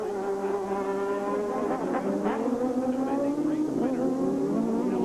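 A race car engine whines and shifts in pitch as it rejoins the track after a mishap, loud and continuous with rising and falling revs, while a commentator talks over it.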